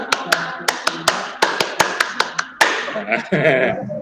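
Group rhythmic clapping for the 'tepuk siang' ice-breaker in a classroom workshop: sharp, close claps in an uneven patterned sequence, about a dozen strikes, with voices and talk joining near the end.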